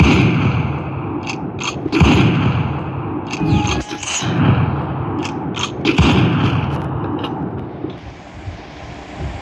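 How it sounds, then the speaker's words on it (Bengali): Sniper rifle shots ring out in a video game, several sharp loud cracks spaced a couple of seconds apart, with mechanical bolt clicks and scraping between them over a busy game background. "দেখুন আমি কেমন স্নাইপিং করি"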